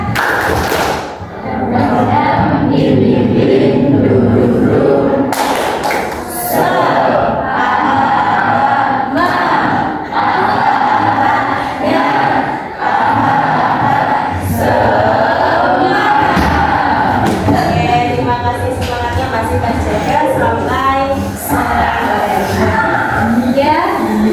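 A group performs a 'tepuk semangat' clapping chant, with rhythmic thumping claps and loud voices chanting together throughout, a lively crowd sound.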